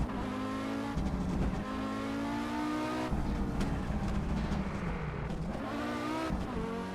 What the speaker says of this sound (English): downshifting to slow us down